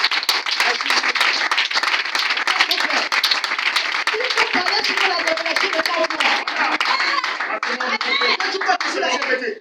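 A church congregation at a Sunday service bursts into sustained, dense applause, many hands clapping loudly and evenly throughout, with voices calling out beneath the clapping.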